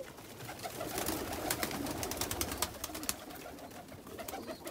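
Pigeons in a breeding loft coo softly in overlapping calls, with wing flutters and bright scratchy rustles rising over a close, busy background.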